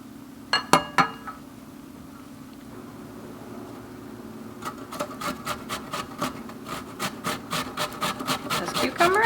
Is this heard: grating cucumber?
yes